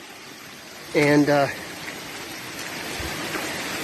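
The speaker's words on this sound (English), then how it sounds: "we are climbing up a waterfall" Water rushing down a waterfall on the Appalachian Trail, a steady close hiss of cascading flow, with a voice speaking briefly over it.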